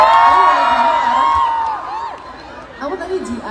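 Loud concert crowd in Lombok for a show, with high shrill screams and whoops sweeping over a roaring crowd, then scattered cheering and voices as the noise settles.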